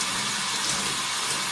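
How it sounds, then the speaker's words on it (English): Running shower water for a blue and gold macaw's bath, a steady close-up spray and splash that is continuous and fairly loud, with no talking. "to get him going, we get him used to the water."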